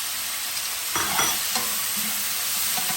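Onions and red peppers frying and being stirred in a pan while cooking a sweet and sour tofu dish, a steady close sizzle with a few scraping stirs, no talking.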